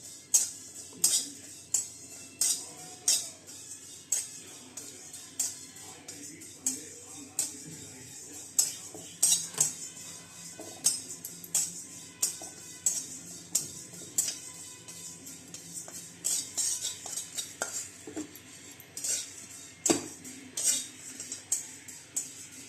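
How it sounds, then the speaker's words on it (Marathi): Cumin seeds dry-roasting in a pan while being stirred, giving a steady run of light scraping clinks and ticks from the spatula against the metal at close range, with no talk. "भाजून घेऊया जिरे"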